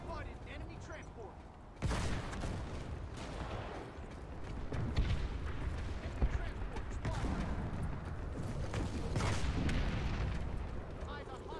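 Explosions and gunfire in a war video game, dense booming blasts and crackling shots layered continuously from start to finish, with a sharp burst of heavier detonation about two seconds in and loud rolling impacts throughout.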